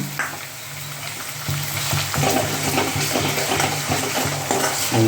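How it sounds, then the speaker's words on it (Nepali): Garlic paste fries in a pan with a loud, continuous sizzle and crackle, and a few stirring clatters come through partway. No voices are heard. "लसुनको पेस्ट पनि अलरेडी बनाएर राखेको थिएँ, यसलाई पनि यहाँ म दिँदैछु"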